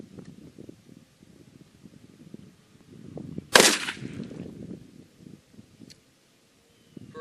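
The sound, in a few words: turkey shotgun firing at target at 10 yards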